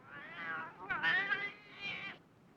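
A cat meows repeatedly outdoors in a wilderness setting, giving three drawn-out, wavering cries in close succession, fairly loud and near, with no talk over them.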